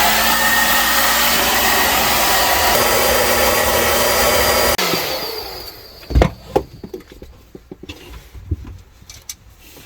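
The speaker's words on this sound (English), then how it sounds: "So let's try the hair dryer." A hair dryer runs loud and steady, a dense whooshing roar with a humming tone, used while installing a washer and dryer in a fifth-wheel trailer, then cuts off abruptly, followed by scattered knocks and handling thumps.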